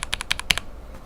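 Rapid burst of about eight crisp clicks from a mechanical keyboard with lubed Cherry bottom housings, close and clear, then quiet.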